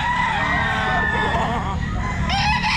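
A bull stag gamecock at a pet market crows loudly and close, a drawn-out rising and falling call followed by another starting near the end, over a busy background of other fowl and crowd noise.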